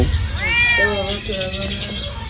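A house cat meows in a drawn-out, rising wail followed by shorter cries. The cat is close and loud, over a low background rumble.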